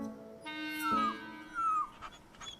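A dog whimpers and whines in a high, wavering pitch, a couple of drawn-out sliding cries with short gaps between, close and fairly quiet, no voices.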